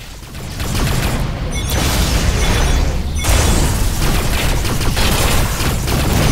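Spaceship weapons fire in Rebel Galaxy as a loud, continuous roar of booming blasts and crackling bursts, rising after a short lead-in and holding for several seconds with brief dips.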